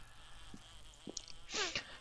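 A buzzing bee in the survival video game 7 Days to Die, a thin insect drone that comes and goes in short bursts over quiet game ambience, rising loudest near the end.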